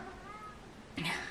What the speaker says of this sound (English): I'm sure you probably heard him meow